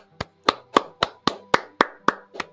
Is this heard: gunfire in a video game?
no